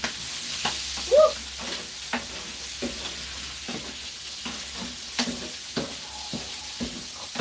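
Onions fry in a pan, giving a low, even sizzle broken by regular sharp scrapes and taps of a utensil stirring close by, with one brief squeaky clatter early on.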